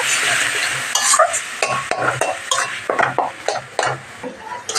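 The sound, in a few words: stirring beetroot paste in a frying pan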